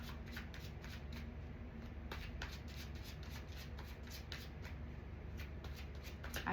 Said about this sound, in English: I tried to do the shuffling of the cards on my pre-shuffle the split way